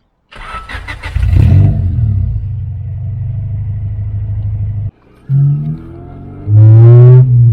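A Honda Civic EK4's B16 engine cranks and catches, then idles with a loud, rough rumble, cuts out briefly, and restarts with a sharp rev near the end.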